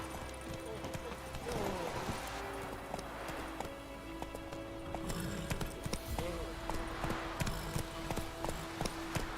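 Horse hooves clip-clop in The Witcher 3 at a steady walking rhythm, fairly faint under game music and ambience, with brief voices at moments.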